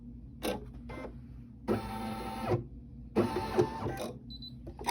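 A sewing machine stitches fabric for a baby wig in short bursts of whirring, mechanical running, two longer runs between brief stops and clicks, close and clear with no talking.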